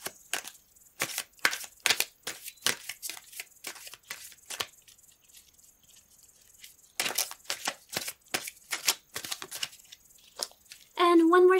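Tarot cards being shuffled by hand in a quiet room, a run of crisp riffling bursts, a short pause, then more riffles, close and fairly soft, ending with a brief louder sustained tone.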